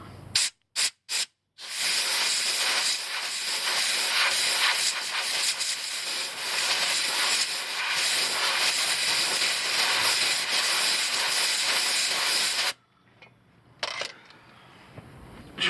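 A pump drains rear differential oil from a 2014 GMC Sierra 1500 with a loud, steady hissing suction that runs almost without a break, cut by a few short bursts at the start and sputtering off near the end.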